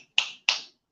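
Three sharp, bright finger snaps spaced about a third of a second apart, close and loud, each with a short ringing tail, with no other sound around them.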